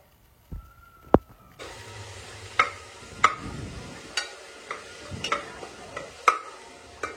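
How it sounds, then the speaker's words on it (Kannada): Chopped onions sizzle in a hot pan for palav, a steady frying hiss broken by repeated sharp clinks and scrapes of a stirring spoon against the pan, close by with no talk. "ಆನಿಯನ್ ಹಾಕ್ತಾ ಇದ್ದೀನಿ, ಹೆಚ್ಚಿಟ್ಕೊಂಡಿರೋದು. ಚೆನ್ನಾಗಿ ಫ್ರೈ ಆಗಲಿ."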